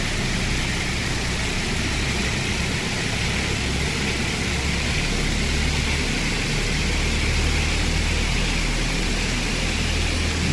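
Piston engines of a PMDG DC-6B airliner in X-Plane 11 spool up to takeoff power, a loud, steady low drone and roar that holds continuously without talk.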